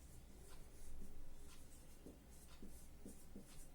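Chalk or marker writing on a board during a physics lesson on the electric potential of a dipole, heard as faint repeated scratchy strokes and taps over a steady room hiss, with no talking.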